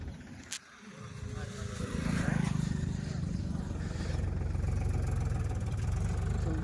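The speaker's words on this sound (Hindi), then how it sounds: "भाई फाइनली ट्रैक्टर हैंडओवर कर दिया इनको और ये चल रही है।" A tractor in a village pulls away after handover, a low engine rumble building from quiet to a steady, loud mid-pitched drone that holds through the end.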